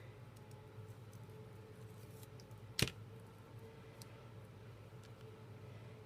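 A single crisp scissor snip cutting a paper construction strip at a 45-degree angle, faint and brief against a quiet room hum.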